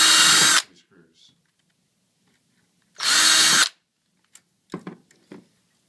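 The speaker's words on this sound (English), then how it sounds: "pre-drill your hole with 2 screws" A power drill pre-drills screw holes while a static kit is installed, two short loud bursts of whirring a few seconds apart, followed by faint clicks and handling sounds.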